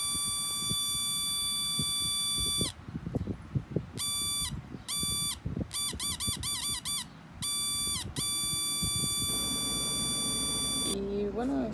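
A light-activated audible detector sounds its buzzer in repeated bursts, a loud electronic beep switching on and off in short groups of tones over background noise.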